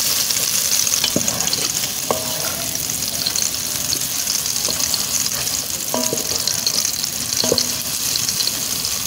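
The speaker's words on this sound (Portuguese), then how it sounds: "Depois do óleo bem aquecido, vou juntar a cebola." Onion fries in well-heated oil with a loud, continuous close sizzle, broken by a few sharp clinks and scrapes of stirring, and no voices.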